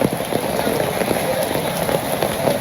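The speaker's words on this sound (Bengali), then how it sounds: "খুব সুন্দর বৃষ্টি হইতেছে" Steady rain falling outdoors near a clay-stove cooking spot, a continuous broadband patter that stays close and even throughout with no pause.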